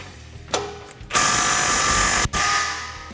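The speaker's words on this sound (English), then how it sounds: "So now we can go back through with our 13 and 15mm sockets and tighten everything down." Ratchet with a 13mm socket tightening an exhaust clamp at the Y pipe of a Jeep Gladiator JT's Borla ATAK dual exhaust, a couple of quick clicks followed by two long, rapid ratcheting runs, close and loud.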